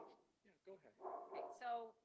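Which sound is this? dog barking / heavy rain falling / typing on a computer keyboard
dog barking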